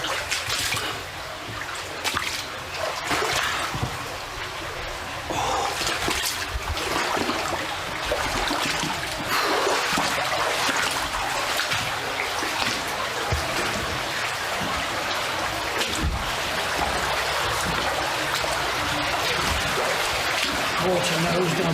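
Water runs and trickles through a slate mine, a continuous close splashing rush that fills the space, with a voice occasionally heard beneath it.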